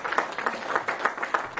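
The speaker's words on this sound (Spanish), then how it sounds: "Denle un fuerte aplauso al que vive para siempre." A church congregation breaks into brief applause, a short burst of fairly loud, rapid hand clapping from a crowd.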